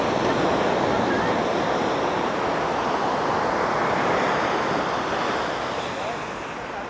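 Waves on Arambol Beach in Goa wash in as a broad, steady surf roar with wind, loud at first and easing slightly toward the end, with no clear voices over it.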